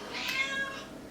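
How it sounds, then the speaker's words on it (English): A cat gives a single short meow, fairly close and moderately quiet, alone with no talking. "Fucking cat."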